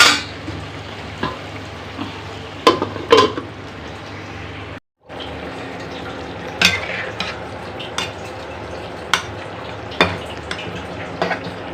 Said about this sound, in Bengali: এটা কষানো হোক সুন্দর করে কষানো হোক